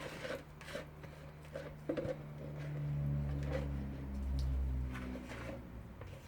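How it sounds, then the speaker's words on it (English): A spatula scrapes homemade soap mixture out of a container, a soft rasping rub near the mic with a low hum underneath, no talking. "My trusty spatula, and scrape it out."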